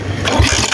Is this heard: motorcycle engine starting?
yes